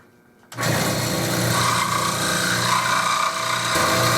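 A small bandsaw or jigsaw starts abruptly and cuts through wooden stock, a loud continuous rasping buzz that holds steady for several seconds close by.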